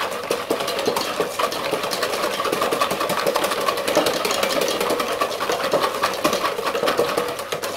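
An electric mixer whirs continuously while blending frangipane filling for a galette des rois, a steady buzzing motor with faint rhythmic clatter from the beaters, close and loud with no talk.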